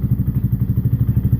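A 250cc Dong Fang STR motorcycle engine running just after a cold start, idling with a steady, loud low-pitched chugging pulse repeating rapidly and evenly.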